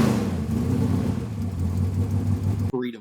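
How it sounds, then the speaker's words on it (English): A big V8 race car engine at Daytona drones steadily at mid pitch as it pulls out of the pit lane, a continuous rumbling note that cuts off abruptly near the end. "Out of the pit lane where it's all electric and then it's the big old V8 that just starts chopping V8 things"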